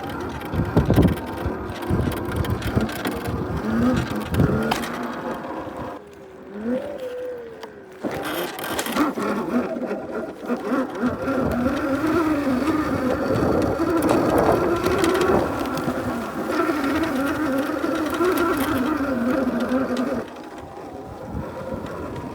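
A Heybike Villain 52V electric pit bike ploughs through snow about five inches deep, its motor whining steadily beneath crunching, rushing noise from tires and wind, loud and close throughout.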